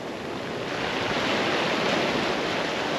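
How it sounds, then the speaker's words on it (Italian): Sea waves and surf at Acquacalda on the island of Lipari, a steady, loud broadband wash of water close by, continuous for the whole stretch with a faint wind-like hiss and no voices. "Qui il rumore del mare la fa da padrone."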